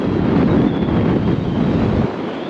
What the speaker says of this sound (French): il y a un peu de vent, j'avoue